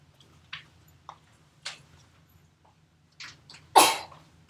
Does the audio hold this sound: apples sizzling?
no